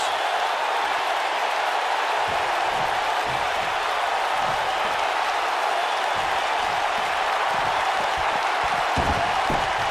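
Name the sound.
crowd cheering in WWE 2K19 video game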